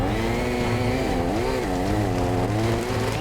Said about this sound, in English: In this case, we're using a chainsaw.